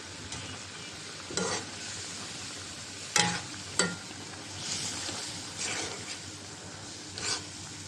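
Eggplant, tomato and hilsa fish head and tail sautéing in a spiced masala, with a steady sizzle broken by several distinct scraping stirs of the spatula, close and moderately loud.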